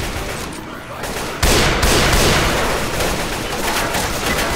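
Dense bursts of gunfire from a zombie shooter, Left 4 Dead 2, loud and continuous, jumping sharply louder partway through into sustained rapid shooting.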